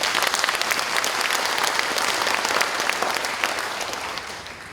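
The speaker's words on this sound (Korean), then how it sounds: "여러분 큰 박수 한번 주시죠." Loud, sustained applause from a large audience at a civil-military forum in Gunwi, dense clapping throughout with a slight fade at the close.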